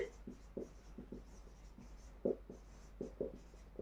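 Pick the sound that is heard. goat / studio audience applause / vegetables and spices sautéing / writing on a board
writing on a board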